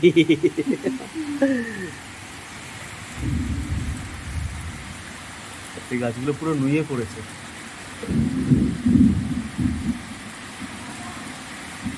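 A thunderstorm with heavy rain: a steady broadband downpour with low thunder rumbles swelling a few times. A person talks over it at moments.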